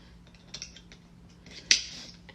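A makeup bag's snap fastener closes with one sharp, close click, just after some faint handling rustles.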